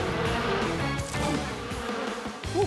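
A cartoon swarm of African bees buzzes loudly and continuously, with a wavering insect drone mixed into busy animated soundtrack effects throughout.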